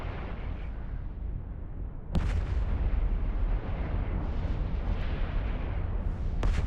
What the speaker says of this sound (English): I think a lot of stuff's shooting at me.